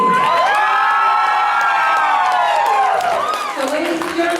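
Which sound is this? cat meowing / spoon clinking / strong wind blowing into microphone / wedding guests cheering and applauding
wedding guests cheering and applauding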